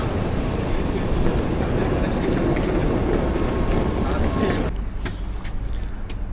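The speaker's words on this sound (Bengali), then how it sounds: "এটা হচ্ছে বুলেট ট্রেন দেখতে পাচ্ছেন" A loud, continuous rushing rumble of the Al Boraq high-speed train between Marrakesh and Tangier, Morocco, with a brief change in tone near the end.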